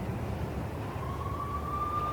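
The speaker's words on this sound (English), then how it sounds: "I could hear the sirens." Police sirens in the Max Payne video game, a distant wailing tone rising and holding steady over a dense, rumbling city ambience, faint and drawn out beneath the background noise.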